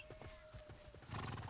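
A horse in the War of the Roses video game clip-clops in a steady rhythm of hooves, then gives a loud neigh near the end, heard close with no talk.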